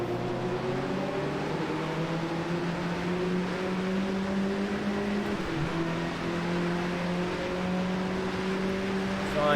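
Race car engines in Automobilista 2 on a wet track at Druids hold a loud, steady, high drone with close cars bunched together, a rushing wash of spray beneath and a brief dip in pitch midway.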